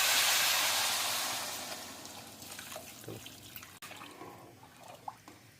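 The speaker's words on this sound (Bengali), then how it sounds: "এখন এখানের মধ্যে জলটা দিলাম" Hot water poured slowly into a cooking pot of khichuri, a steady rushing pour that gradually fades into softer trickles and a few drips, close by with no talking.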